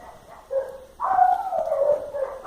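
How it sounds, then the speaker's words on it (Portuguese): A dog barks and whines in drawn-out, howl-like yelps, a faint start followed by a longer, louder cry, close by. "Cachorro latindo"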